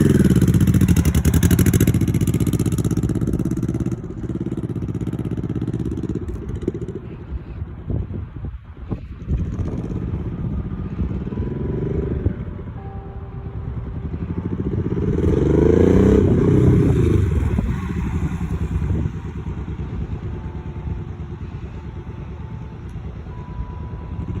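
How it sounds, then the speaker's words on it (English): A manual motorcycle ridden by a first-time rider, its engine droning steadily and loudly with surging revs, mixed with wind buffeting and occasional clatter throughout. "I actually have videos of my first ever time on a motorcycle"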